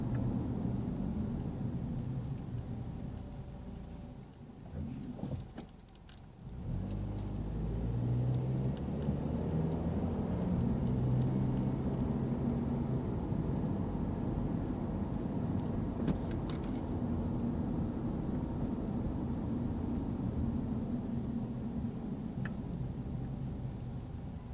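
Cabin of a 2006 Honda Accord driving on a road: a low, steady engine and road rumble fills the interior, dipping briefly before settling into an even drone.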